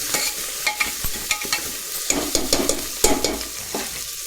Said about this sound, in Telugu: ఇట్లా కొంచెం ఫ్రై చేసుకోండి టేస్ట్ కోసం.